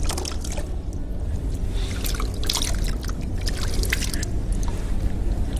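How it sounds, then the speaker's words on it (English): Water splashes and trickles steadily as scrub is rinsed off feet during a pedicure, with a continuous wash of running water broken by brief splashes throughout. "So after you've finished scrubbing, you're going to rinse off"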